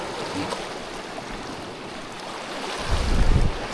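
Shallow stream water flowing over low stones, a steady broadband wash with wind noise on the microphone and a louder rumbling surge near the end, no talking.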